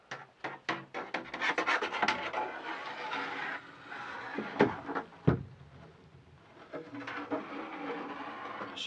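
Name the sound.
fishing rod sliding into a Stealth 525 kayak hatch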